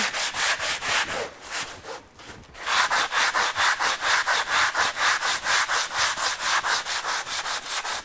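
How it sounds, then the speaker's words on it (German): Steady rhythmic scraping of a sanding sponge on wood, quick back-and-forth strokes close up, briefly pausing before resuming at an even pace. "Jetzt gibt mein Schleifschwamm auf hier."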